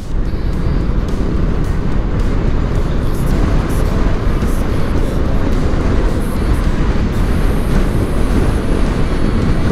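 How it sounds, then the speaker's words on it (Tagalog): Heavy road traffic rumbles along Mindanao Avenue in Novaliches, a dense, loud, continuous roar of vehicles close by with no breaks and no talk. "Dami ulit sasakyan."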